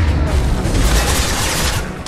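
Dense gunfire rattles through a Mass Effect 2 firefight, a loud continuous barrage of overlapping shots and low booms with no break across the short stretch.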